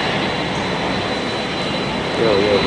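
A jet aircraft arrives at Halim Perdanakusuma airport in Jakarta, its engine roar a steady broad hiss that builds slightly toward the end, with a voice talking over it.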